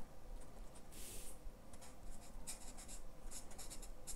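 A yellow art marker colors a flower wreath drawing on paper, making close, soft scratchy strokes in quick repeated bursts, with no talking.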